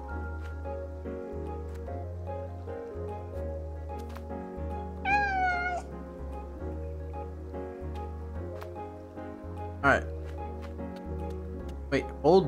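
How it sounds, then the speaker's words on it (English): A cat in the video game Calico gives a few short meows, one rising and wavering, over a steady tonal music bed with soft rustling between the calls. "My god, you can pet the cat."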